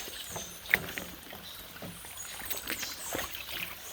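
Gentle spring water trickling and splashing over rocks in a small stream, irregular gurgles over a soft continuous wash.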